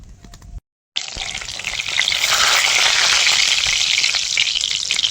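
Whole spices hitting hot oil in a wok and sizzling loudly; a brief silence, then a sharp burst of frying that builds into a steady, bright crackle close by.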